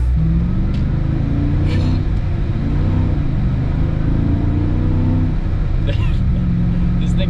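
Supercharged LS3 V8 swapped into a BMW E39 idling loudly with no throttle, a deep steady rumble with slight lope continuing unbroken throughout.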